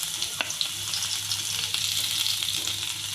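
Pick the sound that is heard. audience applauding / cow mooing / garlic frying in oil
garlic frying in oil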